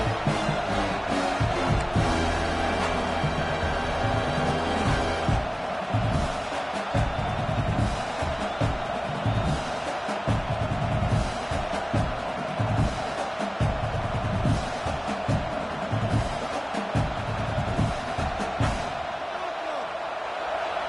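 A college football stadium crowd roars steadily through the whole stretch, a dense, far-off wall of cheering that rises and falls, with a commentator's voice talking over it.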